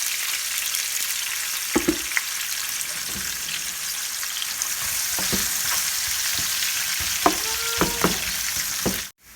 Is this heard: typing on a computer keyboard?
no